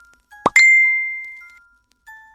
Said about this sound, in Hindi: यह फेसबुक का नोटिफिकेशन था।